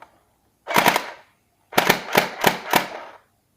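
Two rapid bursts of gunfire from a shooting-gallery gun in automatic mode, a short rattle followed by a longer rattling burst, loud and close.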